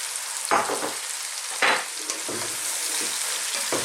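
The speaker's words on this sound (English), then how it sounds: "Simply I'm going to go in with our cabbage." Chunky pieces of red cabbage sizzle and fry in a pan with cumin, with a steady hiss broken by several scraping stirs.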